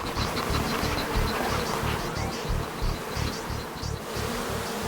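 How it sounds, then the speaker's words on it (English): Bees swarm close around a person's face and body in a dense, continuous buzz that drones on steadily throughout, loud and near, with no talking. "Okay, Ruth, it's time to get these bees off."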